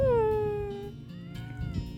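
A cat gives a drawn-out meow, close and clear, followed by a shorter, softer meow.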